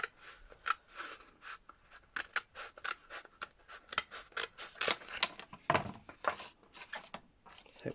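Scissors snipping through paper in a crafts setting, a rapid run of sharp, crisp cuts in irregular bursts, close and clear with no talk over them.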